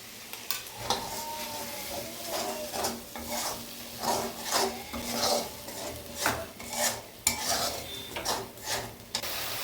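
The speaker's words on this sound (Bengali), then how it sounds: "মশলাটাকে ভালো করে কষিয়ে নেব।" Spice paste with poppy seed and white mustard paste being stirred and fried in a pan, rhythmic scraping strokes over a steady sizzle, close and moderately loud with no voices.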